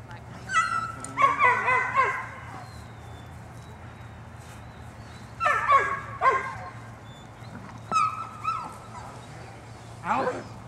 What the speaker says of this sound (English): That a good dog.